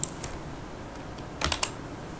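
A few soft keystrokes on a computer keyboard as a file name is typed, a quick isolated tap and then a short cluster of three or four close clicks in a quiet room.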